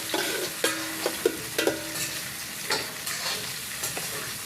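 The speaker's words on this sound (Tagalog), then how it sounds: "Isayin lang natin yung bawang." Garlic sautéing in a pan while a cook prepares chicken, a soft steady sizzle broken by several sharp clanks of a spatula stirring against the pan, with no talking.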